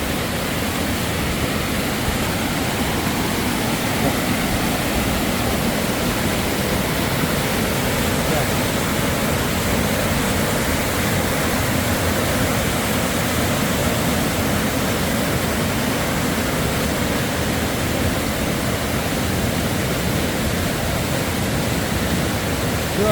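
Water pouring over the spillway of the Nong Wai dam on the Phong River: a loud, steady, broadband roar like a waterfall, unchanging and close, with no clear speech.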